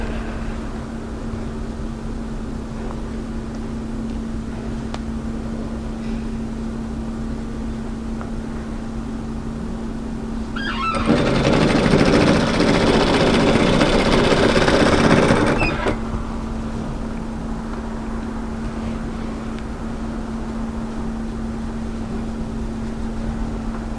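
A sewing machine stitches a seam on a hooded jacket's funnel collar, a dense whirring burst of about five seconds rising over a quiet steady hum, then stopping.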